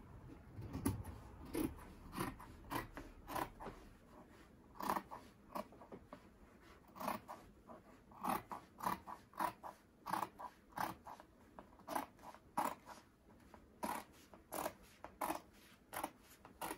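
Scissors snip through fabric while a dress sleeve is cut out, giving a long run of steady, close, crisp cuts at an even pace with short pauses between them.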